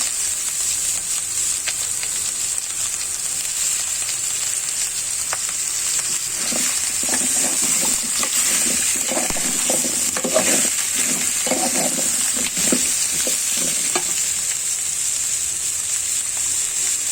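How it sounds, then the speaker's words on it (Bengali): Sweet whole spices sizzle in hot oil with frying rohu fish for a pumpkin fish curry, a steady crackling hiss throughout with a run of scraping stirring strokes in the middle, close and fairly loud. "এখন আমি মিষ্টি মশলাগুলো ছেড়ে দিচ্ছি"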